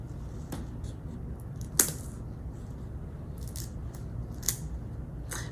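Scissors trim the extra husk from a damp corn husk doll, a few short crisp snips spread across a quiet stretch, close and clean with no talk.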